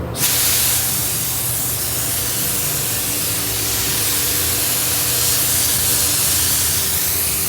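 A spray gun lays a light ground coat of Mazda 25D tri-stage paint on a car panel, giving a loud, continuous hiss that starts abruptly and holds steady throughout without talk.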